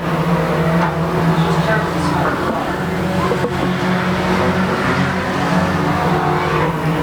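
Four-cylinder race cars circling Lone Star Speedway during an evening heat race: a steady loud roar of engines throughout, with an announcer's voice mixed in over the track noise.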